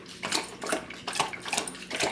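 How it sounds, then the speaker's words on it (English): A pet dog named Ella laps water noisily in a log cabin home, giving a close, loud series of wet slurping bursts in an irregular rhythm with brief pauses between them and no talking. "Ella is the loudest drinking dog ever."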